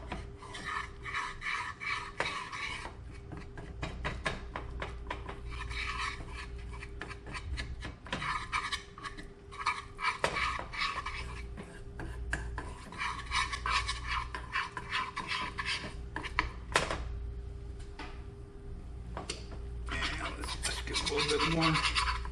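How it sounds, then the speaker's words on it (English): A whisk works about a quarter cup of flour into a roux in a pan, giving a continuous close scraping and rasping that runs throughout over a low steady kitchen hum. "And we're gonna start whisking. I'm making a roux here."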